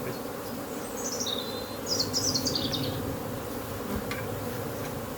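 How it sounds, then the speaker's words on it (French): A dense, steady buzzing drone of many honeybees swarming out of a hive fills the clip, with a few brief higher chirps drifting over it; no one speaks. "Les abeilles sont toutes sorties, il y a un amas d'abeilles"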